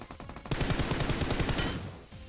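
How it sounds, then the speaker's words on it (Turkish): Rapid gunfire in the mobile battle-royale game PUBG Mobile, a loud burst of closely spaced shots after a brief quieter lead-in, with no talking over it. "Bu taraftan bir silah sesi daha geldi"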